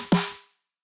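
A single short, sharp electronic click from a synthesized snare drum, with a quick bright attack and a brief tonal ring that decays to silence within half a second.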